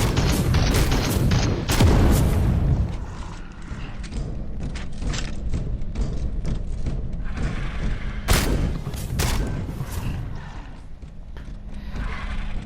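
Turret fire in the video game Space Hulk: Deathwing: a loud run of rapid mechanical bursts with heavy thuds, then a quieter stretch of rumbling game ambience before another sharp cluster of shots.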